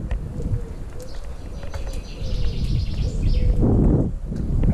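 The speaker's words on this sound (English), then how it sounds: "The birds." Pigeons coo in low repeated calls amid outdoor background noise, with faint chirps and a rustling burst near the end.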